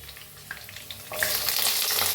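Potatoes dropped into hot oil with fresh curry leaves and long-cut green chillies, a soft crackle giving way to a loud, dense sizzle that fills the last second close up.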